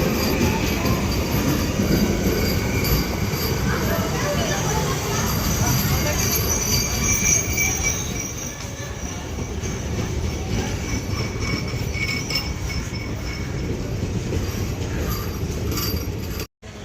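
The Hul Express passenger train on the Howrah–Siuri line runs along with a steady rolling rumble and rail clatter, faint squeals in the background, throughout the stretch.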